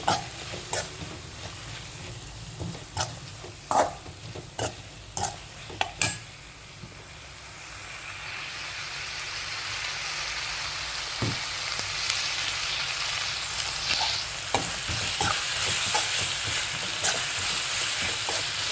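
Prawns fry with turmeric and salt in a pan, a spoon scraping and stirring in sharp knocks for the first few seconds before a steady, close sizzle takes over and builds.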